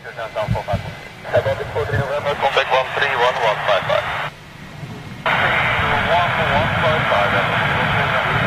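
A Boeing 747 jet departing at Amsterdam airport gives a steady, fairly loud engine roar that swells partway through, heard under almost continuous talking and a radio-like voice.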